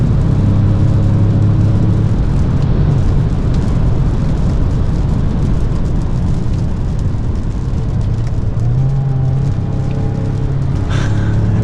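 A 2025 Ford Maverick Lobo sport truck with all-wheel drive and a 7-speed automatic, driven on the Road America race track, heard from inside as a loud, continuous engine roar with shifting pitch and steady wind and road noise.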